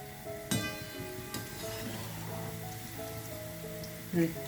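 Peanut bondas bubble and sizzle in hot oil over a medium flame, a soft steady crackle with faint pops, with a few louder clatters near the start and end.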